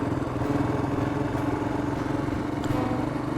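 A Royal Enfield Himalayan adventure motorcycle runs steadily underway, its single-cylinder engine thrumming close and loud with a constant mechanical clatter throughout.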